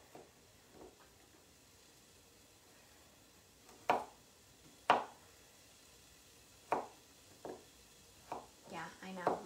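A knife chops ingredients on a cutting board while lamb bolognese cooks, with sharp, irregular chops spaced a second or more apart over a soft background hiss of sizzling.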